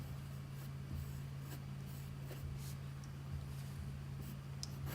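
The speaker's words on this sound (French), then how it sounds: "On dessine sur cette fourrure tout autour des petites formes, un peu comme des flammes en fait." A pen sketches small flame-like shapes around the fur of a hood on paper, a soft continuous scratching with brief strokes under a steady low hum.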